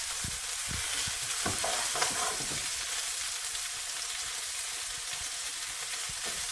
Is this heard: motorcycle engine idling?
no